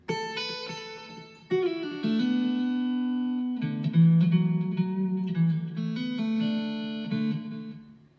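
Electric guitar through an amplifier with a heavy reverb effect, giving a hollow, echoing sound like playing inside a drain pipe; sustained chords and single notes ring out alone, with decaying tails between strums.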